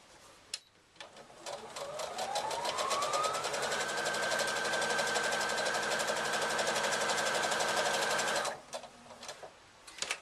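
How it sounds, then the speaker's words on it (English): Sewing machine top stitching a handbag handle, a fast steady rattling whir that spins up and runs for about six seconds before stopping, close and loud. "I'm going to do the same top stitching down the other side just to finish that off"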